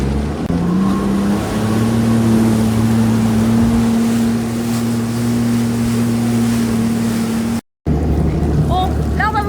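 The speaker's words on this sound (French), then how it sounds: "on va faire du jet ski avec Roy" A jet ski on open water runs with a steady, loud engine drone and rising pitch as it gets under way, wind and water noise filling the mix, a brief dropout near the end followed by faint chirping tones.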